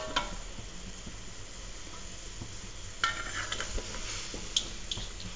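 A pot of red snapper curry broth bubbles and simmers softly on the stove, giving a steady low hiss of boiling with a few faint clinks of utensils against the pot.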